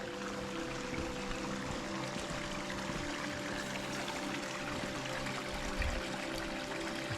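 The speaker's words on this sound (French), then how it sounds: "J'aime bien parce qu'il y a des mini cascades." Small waterfalls tumble along a stream near Mazères, giving a soft, steady rushing and splashing that stays faint and unchanging throughout.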